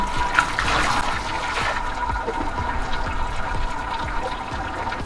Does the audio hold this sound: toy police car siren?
no